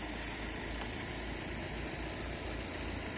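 A Peugeot Boxer van's single-turbo diesel engine idles with a low, steady rumble and vibration, close by, with no voices.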